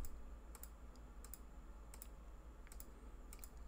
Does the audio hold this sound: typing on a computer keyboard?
yes